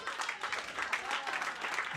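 Dense applause from a comedy-show audience, many hands clapping in a steady, lively wash at close range that carries on without a break.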